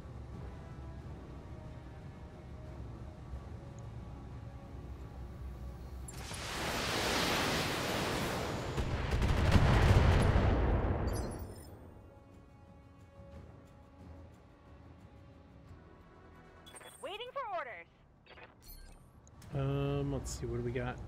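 Weapons fire in the mech strategy game Battletech: a loud roaring blast of noise swells into a deep rumbling impact lasting several seconds, then gives way to quieter mechanical sounds and whirring tones.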